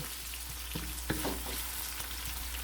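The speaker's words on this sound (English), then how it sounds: "Then saute or sweat it until this will become fragrant or slightly golden brown." Red onions and garlic sautéing in a pan, a constant close hiss of frying with a few soft taps and stirring scrapes over it.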